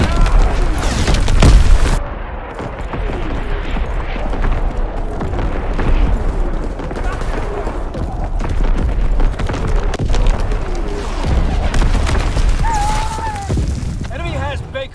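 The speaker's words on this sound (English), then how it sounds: "Incoming enemy artillery." Enemy artillery shells landing in Call of Duty WW2 hardcore domination, a heavy boom at the start followed by continuous rumbling battle noise, with voices throughout.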